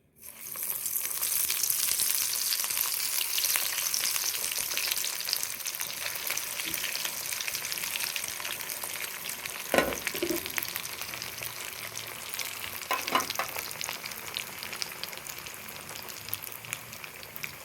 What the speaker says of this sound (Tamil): இதை சூடான எண்ணெயில் ஃப்ரை பண்ணி எடுக்கணும்